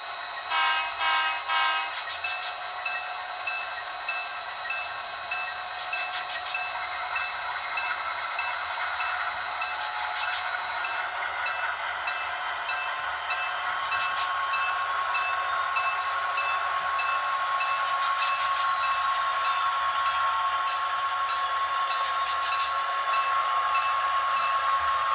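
Model MoPac diesel locomotives with a Tsunami2 sound decoder hum steadily with a long horn blast near the start, followed by a sustained rising and falling whine as they back up slowly.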